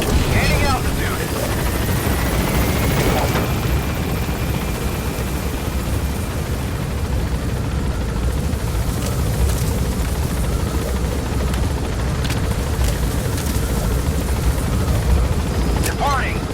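A helicopter lifts off from a landing zone in the Metal Gear Solid V video game, its rotor roar loud, dense and constant throughout.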